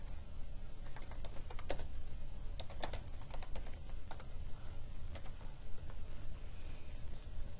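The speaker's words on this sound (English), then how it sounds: "you're going to type table of contents in all caps, centered at the top of the page" Keys clatter on a computer keyboard as a table of contents is typed, in irregular bursts of close, crisp keystrokes over quiet room noise with no talking.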